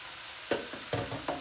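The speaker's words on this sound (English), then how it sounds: "So we're gonna put these into the skillet." Sliced white potatoes for smothered potatoes hit a skillet, producing three or four soft, close scraping clatters over a quiet background hiss of sizzling.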